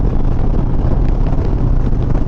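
Strong, steady wind at 8,000 feet roars across the microphone, loud and constant throughout, with nothing else audible.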